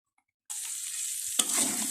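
Dried lotka fish cooking in a pan with a little water, a sudden close sizzle starting after a short silence, then a sharp stir and a louder, rougher frying hiss.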